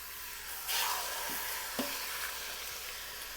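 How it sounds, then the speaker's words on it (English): Pork searing in avocado oil for Mexican pulled pork in an Instant Pot, with a continuous, moderate hissing sizzle and a couple of brief louder crackles or soft knocks. "we'll just let that saute for a few minutes"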